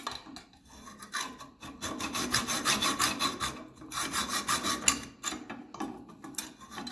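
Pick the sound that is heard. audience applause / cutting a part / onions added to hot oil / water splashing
cutting a part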